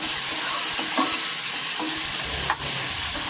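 Chopped onion and potato sauté in a hot pan for a savoury semolina dish, giving a steady broadband sizzle with soft stirring scrapes, close and continuous without talk.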